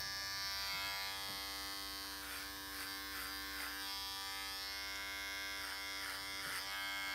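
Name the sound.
electric hair clippers cutting hair over a comb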